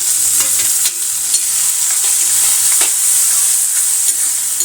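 Tomatoes tipped into onions frying in a pan for a masala dal, giving a loud, steady sizzle with stirring scrapes throughout, no voices.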